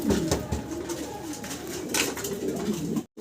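A pair of German Beauty Homer pigeons in Andalusian colouring cooing close by, with continuous throaty, rolling coos and faint background noise.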